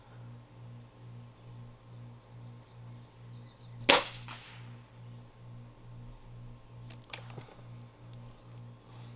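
A .25 air rifle fires a pellet at a wooden target, giving one sharp, close crack. A fainter snap follows a few seconds later over a steady, low, pulsing hum.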